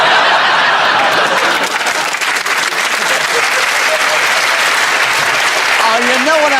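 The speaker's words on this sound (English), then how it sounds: "When someone gives a wonderful remark like that and gets a round of applause" A studio audience at a comedy panel game show gives loud, sustained applause that fills the whole stretch, with a few chuckles mixed in near the end.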